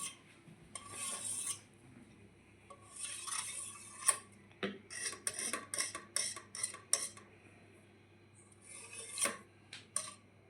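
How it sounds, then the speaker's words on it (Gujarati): Cooled khandvi being cut in a dish, heard as a series of quiet, close scraping and tapping strokes of a utensil against the plate in irregular bursts. "હવે આપણે એને આવી રીતે થોડુંક કટ કરી નાખશું"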